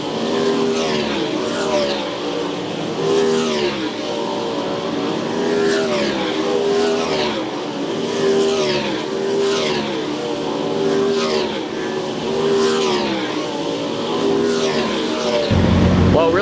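Race cars on hot laps at the Jackson Nationals dirt track finale, engines revving and roaring steadily past in repeated surges, loud and continuous with a crowd or voices faintly underneath.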